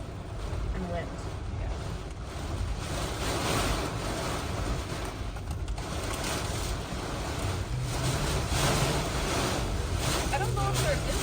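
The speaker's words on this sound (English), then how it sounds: "And wind." Hurricane Milton's eyewall winds lashing St. Petersburg on Tampa Bay, Florida, a dense continuous roar of wind and surging water buffeting the microphone throughout, steady and loud with no clear breaks.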